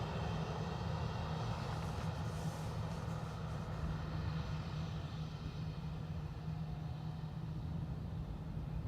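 An Aer Lingus Airbus A321neo jet at Dublin Airport gives a steady, continuous broadband engine roar with a low hum underneath. It holds an even loudness throughout, with no voices.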